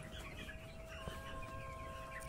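Eight-day-old broiler chickens in a poultry shed cluck softly, a faint, low cluster of close chatter with no single loud call standing out.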